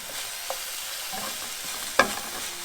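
Cabbage and carrots stir-fry in a pan with a soft, steady sizzle while a utensil scrapes and stirs, and one sharper clank stands out partway through.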